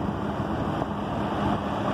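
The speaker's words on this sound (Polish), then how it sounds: "Ciągnik" A Fendt 820 Vario tractor from 2009 runs with a steady, dense engine rumble throughout, loud and close, with no talk.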